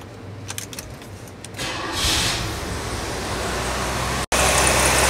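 A Cadillac with a clogged catalytic converter cranks and fires up, settling into a steady, loud idle after an initial burst, with a brief cutout near the end before the engine noise resumes.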